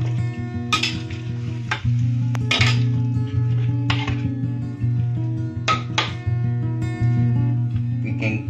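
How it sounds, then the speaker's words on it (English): A spoon stirring a pot of ikan asam pedas, a sour spicy fish stew with water just added, gives a series of light scraping clinks under steady background music. "And now we're going to stir this up."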